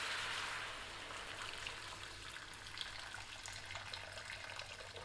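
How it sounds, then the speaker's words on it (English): Hot boiling water is poured over tofu while preparing mapo tofu, a soft continuous splashing hiss that is strongest at the start and then settles into a quieter, steady trickle. "So just hot boiling water."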